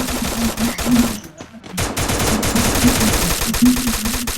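Enemy machine gun fire in a video game, rapid continuous bursts with a brief pause in the middle, loud and close, while someone talks over it.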